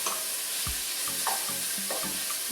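Minced ginger and garlic sizzle in a hot pan under a steady frying hiss, with several soft scraping strokes of a utensil as it is stirred.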